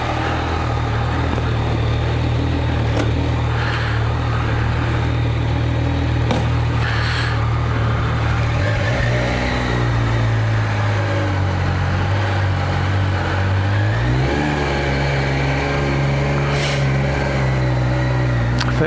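A 2018 Yamaha Niken three-wheeled motorcycle pulls away, its engine note steady and close before rising and shifting as it gathers speed, with constant wind and road noise.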